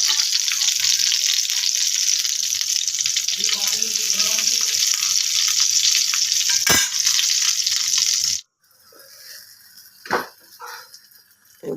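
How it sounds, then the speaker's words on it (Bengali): Slit eggplant frying in a pan gives a steady bright sizzle for several seconds, then stops abruptly, followed by a few scattered clinks and handling sounds. "ভাজা হয়ে গেছে, এবার তুলে দিচ্ছি"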